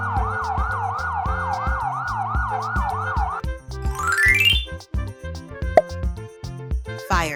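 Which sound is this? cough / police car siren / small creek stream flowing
police car siren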